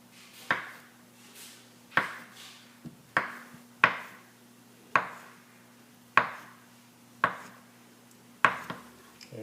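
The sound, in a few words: knife slicing fresh bananas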